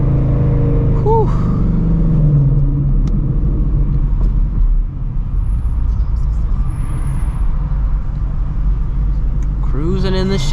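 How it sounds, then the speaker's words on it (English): Ford Shelby GT350 Mustang cruising, a loud continuous engine rumble and road drone from inside the car, with a voice talking over it at times. "Cruising in the Shelby."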